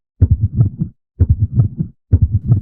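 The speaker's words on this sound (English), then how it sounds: "you can hear his heartbeat in this game" Heartbeat in the Five Nights at Freddy's video game: three loud, close double-thump groups of several beats each, separated by short silences, with no talk.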